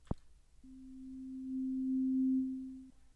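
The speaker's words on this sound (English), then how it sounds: "The note level knob introduces a sine wave." A steady sine tone from the note level knob of a free Ableton instrument rack, holding one pitch for over two seconds and swelling slightly before cutting off, preceded by a brief click.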